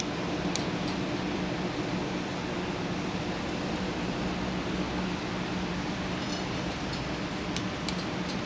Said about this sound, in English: This is the oil pump.